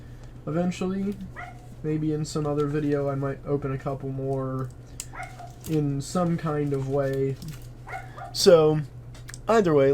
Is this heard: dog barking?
yes